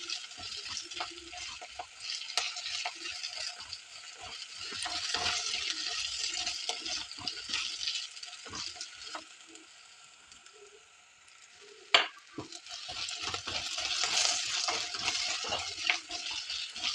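Fennel seeds frying and being stirred in a pan as they roast, a steady hissing sizzle with soft scraping, moderately loud and continuous with a brief sharp clink midway.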